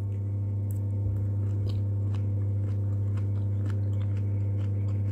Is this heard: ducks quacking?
no